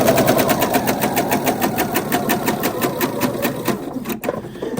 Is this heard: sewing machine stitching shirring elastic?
yes